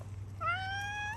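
A cat gives a single short rising meow, close by, outdoors near a tree, over a quiet background with no talking.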